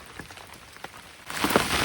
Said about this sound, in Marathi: मगापासून आम्ही थांबलेलो पाऊस जाईल म्हणून, पण पाऊस का जाईना